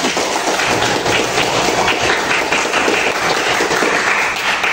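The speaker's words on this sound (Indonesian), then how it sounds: "Tepuk tangan sayang" Applause during a classroom lesson on coordinate reflections, a steady dense wash of clapping lasting the whole stretch, loud and continuous with no talk over it.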